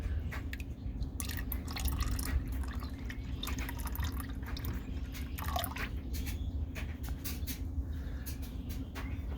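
Oil and water from a car's oil catch can pour out in a steady trickle, with irregular wet drips and splashes over a low continuous background hum, close and moderately loud throughout.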